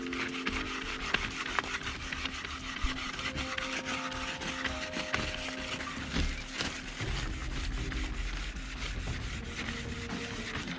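Wood rubs rapidly against wood for a friction fire without a bow drill, in a steady back-and-forth rasping rhythm, close and continuous, with no talking.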